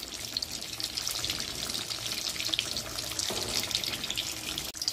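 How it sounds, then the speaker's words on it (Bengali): Chicken cutlets frying in shallow oil, a steady hissing sizzle with crackling spits, fairly quiet and continuous, with no voices. "আমি কাটলেটগুলো লাল লাল করে ভেজে নেব"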